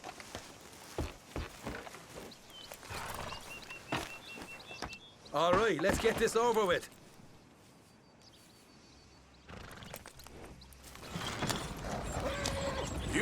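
Horse hooves clip-clop in a Red Dead Redemption 2 ride, irregular thuds moving along with a loud whinny midway and creaking tack. Someone speaks briefly over the sounds.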